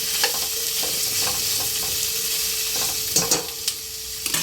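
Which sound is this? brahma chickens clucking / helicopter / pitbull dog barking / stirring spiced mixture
stirring spiced mixture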